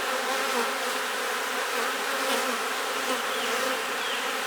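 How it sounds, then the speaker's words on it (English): Honeybees buzz in a dense, steady swarm drone as they are shaken off a hive frame holding pollen, the hum close and continuous throughout with no talking. "let me just shake those bees off just to verify"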